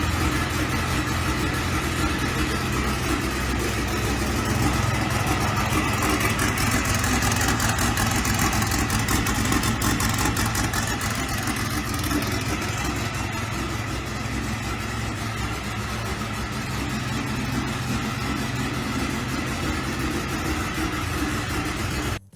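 A 1956 Porsche Speedster replica built on a 1971 Volkswagen Beetle chassis runs steadily, its engine idling with a constant low drone throughout and no voices.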